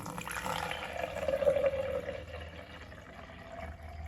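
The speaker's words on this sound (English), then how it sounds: "I'm then going to add water in." Water is poured steadily into a large NutriBullet blender cup, a continuous splashing stream that swells and then tapers off over a few seconds, close by with no talk.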